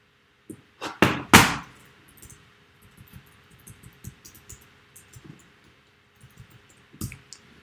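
A computer keyboard is struck with a few loud, sharp knocks, then tapped with a run of lighter, irregular clicks, close by in a quiet room.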